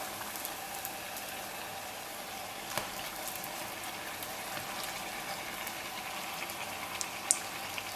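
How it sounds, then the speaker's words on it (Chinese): Youtiao dough sticks deep-frying in hot oil, a steady broadband hiss and crackle of bubbling oil with a few sharper pops, moderate and continuous, no voices. "炸制的过程中，我们不断的翻制油条"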